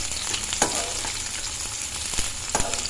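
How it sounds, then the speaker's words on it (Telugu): Chopped onion and green chillies fry in a pan for masala dosa, giving a close, steady sizzle with a few sharp scrapes of stirring and no speech. "ఒక పెద్ద ఉల్లిపాయని, నెక్స్ట్ 2 పచ్చిమిరపకాయలని ఇలా కట్ చేసుకొని మనం వీటిని గోల్డిష్ బ్రౌన్ షేడ్లోకి వచ్చేంత వరకు వేసుకోవాలి"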